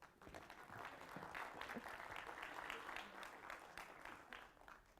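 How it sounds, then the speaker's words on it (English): Audience applause at a TEDx event at IMT Ghaziabad, a steady, dense wash of many hands clapping throughout, fairly distant and even in level, with no talk over it. "Clap for me again."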